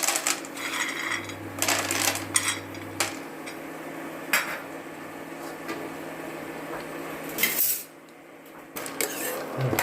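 Raw peanuts roasting in hot oil in a pan, stirred with a metal utensil that gives sharp, close clinks and scrapes at irregular moments over a low steady background hum, with no talking.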